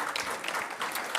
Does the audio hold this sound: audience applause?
yes